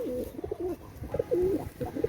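A teddy pigeon coos repeatedly up close, low rolling calls in short bursts with brief pauses between.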